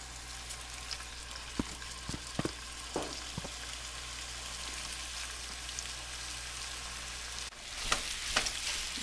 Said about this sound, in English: In my pan over medium-high heat, I have a few tablespoons of olive oil, and I'm going to put in my ground Italian style turkey